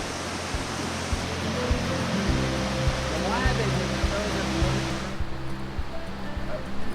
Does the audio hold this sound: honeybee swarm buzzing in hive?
no